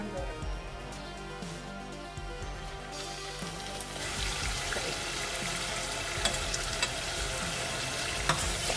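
Kavourmas pies filled with fresh cheese and cured pork sizzle steadily in hot oil in a frying pan, a close, continuous crackle that grows busier and louder after a few seconds, with no talking.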